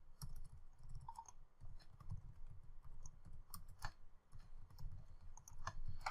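Quick bursts of keystrokes tap out a password on a computer keyboard, soft and close, in short irregular runs with brief pauses and no talking.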